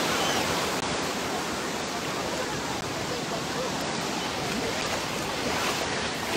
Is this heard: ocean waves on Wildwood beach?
yes